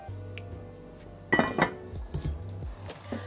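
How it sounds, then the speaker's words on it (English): A metal lid clatters and clinks onto a pot of simmering low-carb lasagna soup, a few sharp contacts followed by lighter rattles, close by over a low background hum. "Now I'm going to put the lid back on"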